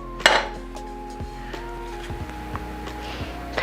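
A utensil scrapes cookie dough from a mixing bowl, giving a sharp clink near the start followed by several soft knocks and scrapes against the bowl, close and fairly quiet.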